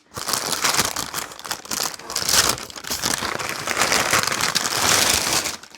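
Crinkly packaging rustles and crumples in close, irregular bursts throughout, loud and busy with brief pauses between handfuls.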